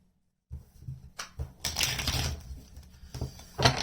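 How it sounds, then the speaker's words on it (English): Tarot cards being shuffled by hand, a run of crisp riffling and papery slaps that starts after a short silence and repeats in bursts, fairly close and alone. "Let's give one more shuffle."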